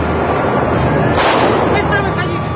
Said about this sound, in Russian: И вдруг неожиданно в школе взрыв.